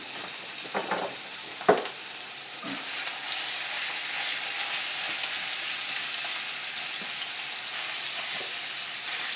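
Lamb frying in a little oil in a pan over medium heat. A few clattering knocks come early, then a steady close sizzle and crackle continues throughout.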